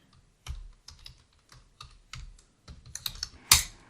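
Terminal commands are typed on a computer keyboard, with close, crisp keystrokes in uneven bursts and a harder final key press, and no talking.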